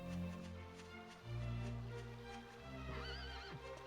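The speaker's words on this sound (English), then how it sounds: "Horsey." A horse in the video game Dragon Quest 8 gives a loud whinny, followed by another rising neigh, with clip-clop hooves and game music underneath.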